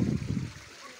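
Water runs steadily over a small improvised waterfall near a footbridge, a soft, close rush that fades slightly toward the end.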